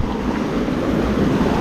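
A strong river current rushes past a swimming spot, a steady, loud wash of churning water with heavy low rumble and wind buffeting the microphone, with no break throughout.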